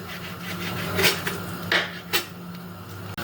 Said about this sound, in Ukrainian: поріжу та замариную грудку